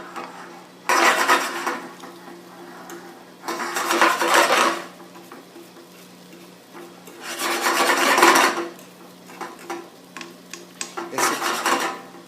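Egg cooking in a pan, stirred and scraped loose with a utensil, giving raspy scraping bursts in four separate strokes between quieter pauses, close and fairly loud with no talking.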